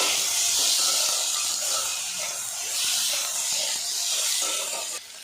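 Ginger garlic paste sizzles steadily in a hot pan while being stirred, a continuous bright hiss with faint scraping that stays fairly loud throughout and dips slightly at the end.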